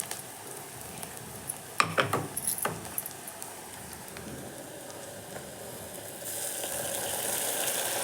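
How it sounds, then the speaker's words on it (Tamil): Ginger garlic paste hits fried onions in a hot pan for tomato rice: a soft crackle with a few metal utensil clinks, then the sizzle swells into a loud, steady hiss near the end. "இப்போ நம்ம இதில் என்ன பண்ண போகிறோம், இஞ்சி பூண்டு பேஸ்ட்டு சேர்த்து போகிறோம்."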